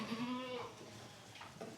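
A goat bleats twice in a barn, the first a long wavering call, the second shorter and fainter, over a low background hum with no talk.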